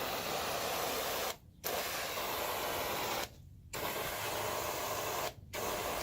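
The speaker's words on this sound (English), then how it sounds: "this is no pressure, just straight up running through the garden hose" Unpressurised water gushes from a garden hose feeding a pressure washer on a driveway, a steady, loud, broad hiss that cuts out briefly three times and resumes.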